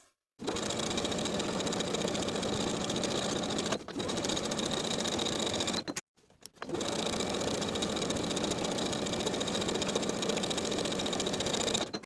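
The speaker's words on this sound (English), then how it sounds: "I'm going to top stitch to sew that seam allowance down flat" A sewing machine top stitches a dress seam allowance flat in two long, even runs of steady whirring, split by a brief pause, with a quick hitch partway through the first stretch.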